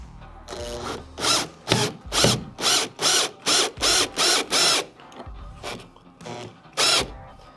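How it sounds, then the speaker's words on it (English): A power drill tightens the screws of a rod holder on a Hobie Mirage Compass kayak, whirring in about a dozen short, even bursts with brief pauses between, close and clear. "I like to come back with a drill and tighten it all up"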